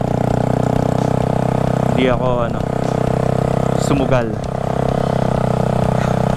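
A motorcycle engine runs through flood water, a steady, loud droning idle that continues throughout while someone talks over it close by.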